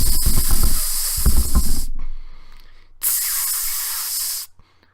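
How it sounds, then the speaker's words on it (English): Silly string sprays at a turtle in two bursts of hissing, the first loud and mixed with close noisy rustle, then a short gap before a second steady spray that cuts off abruptly. "And that was the sound of silly string being shot at a turtle."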